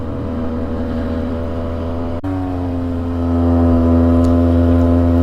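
A 2003 Polaris Sportsman 700 quad holds a steady high-RPM rev, its exhaust droning loud and close with a strong even tone that briefly dips and then climbs a little higher and louder; no voices.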